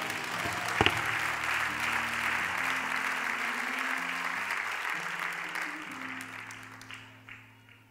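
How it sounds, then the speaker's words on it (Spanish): A church congregation applauds during a sermon, a sustained wash of clapping with a low sustained musical tone underneath, gradually fading toward the end. "denle un aplauso a mi Señor, por favor"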